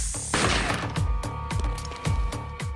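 Shotgun fires a deer slug at a grenade target: a loud close blast with a crashing burst, then a run of sharp repeated booming thumps at regular intervals, no talk.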